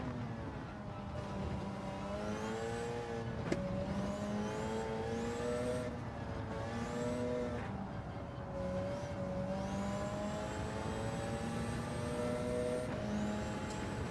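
A rally car engine in the racing video game Dirt Rally 2.0 revs and shifts through gears continuously, a steady droning whine rising and falling with each gearchange, with occasional tire noise.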